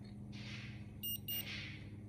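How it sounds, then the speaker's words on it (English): An Omnipod 5 insulin pod, just filled with insulin, gives two short, close, high-pitched electronic beeps in quick succession over a quiet room hum. "I'm gonna listen for 2 beeps."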